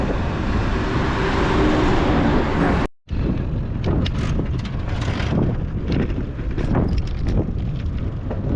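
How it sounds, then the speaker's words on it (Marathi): Strong wind roars across the microphone while cycling, a steady, buffeting rush broken by one brief dropout, with gusts flaring throughout. "वारा तर एकदम खतरनाक चालू आहे"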